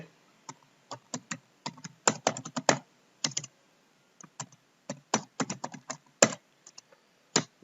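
Someone types on a computer keyboard in MS Word, sending out quick, close, crisp keystrokes in irregular bursts separated by short pauses in a quiet room.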